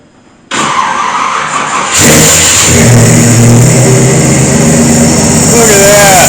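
A 1957 Chevy engine fitted with FiTech Go Street 400 fuel injection cranks and catches after winter storage, then runs loud and close with rising revs and a steady roar.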